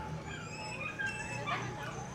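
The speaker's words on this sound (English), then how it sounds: "Another little puppy." A little puppy on a Sunday afternoon in Guatemala City whimpers and gives thin, high yips and a few small barks, fairly close, over a soft background murmur.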